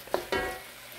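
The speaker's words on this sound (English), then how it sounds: "Stir fry it quick." Kung Pao chicken with scallion stir-frying in a hot pan, two quick tossing scrapes over a steady sizzle that fades out, with no talking.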